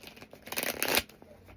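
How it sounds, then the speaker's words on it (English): Tarot cards being shuffled during a reading, a brief flurry of riffling paper that swells to a close, fairly loud rustle around the middle and then fades off, with no talking. "One more shuffle."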